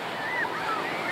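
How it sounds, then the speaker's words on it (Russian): Ocean surf rolling onto New Brighton Beach, a steady broadband wash of waves with wind, close and continuous, with faint distant cries in the background. "А вот океан. Море-океан."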